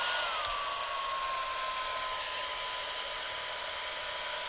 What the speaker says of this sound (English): So if you're wanting to use the heat gun part of itself, you'll have to put it up on medium or high.